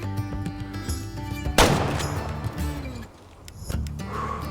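A single loud gunshot fired at a deer in a hunting video game, a sharp blast with a decaying tail over steady background ambience, followed by a softer second thump near the end.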